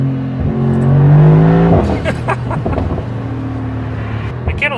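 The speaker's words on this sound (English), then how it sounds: "Can you hear the blow off?" A 2024 Mercedes-AMG GT 63 V8 coupe with an OPF revs loudly and climbs in pitch, then lifts off with a brief turbo blow-off whoosh and crackle before settling back to a rumbling idle.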